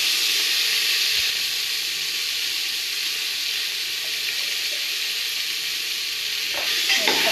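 Turmeric being mixed into a dish frying in a pan, with a steady loud sizzle and hiss throughout, plus a few scraping stirs near the end.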